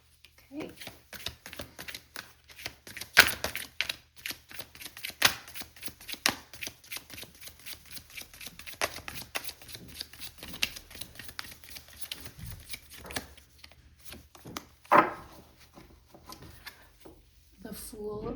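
A tarot deck is shuffled in repeated rapid bursts of riffling, flicking cards, close and crisp, with brief pauses and a few louder slaps of cards.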